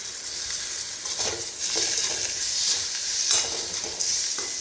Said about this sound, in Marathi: आता यामध्ये तिखट मीठ हळद गरम मसाला टाकून थोडं परतून घेऊयात